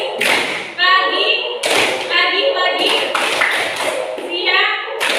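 Children in a classroom perform a clapping chant, their sung voices alternating with sharp bursts of hand claps in a regular rhythm, loud and close.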